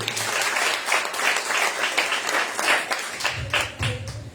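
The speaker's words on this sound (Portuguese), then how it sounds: "Aplauda ao Senhor." A church congregation applauds steadily during a worship service, dense clapping from many hands filling the room without pause.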